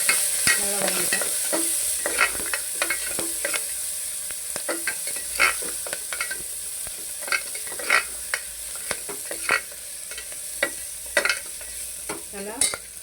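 Onion and green chillies sautéing with asafoetida in a pan: a steady, close sizzle with frequent scraping and clicking spatula strokes throughout, no voices.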